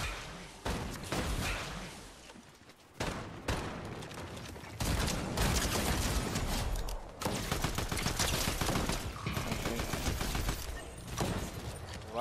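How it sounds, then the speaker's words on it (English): Fortnite gunfire: sustained, dense bursts of shots for about twelve seconds, broken by brief pauses and overlapping volleys, loud and close throughout with no talking. "Why are you shooting at me?"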